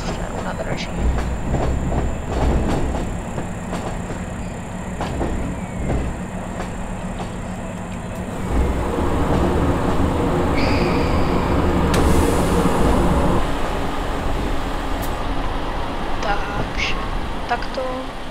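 In Train Simulator 2024, a regional train arrives at Ostružná station on line 292 with a steady rumble and wheel noise, a few brief high squeals and tones, and someone talking over it.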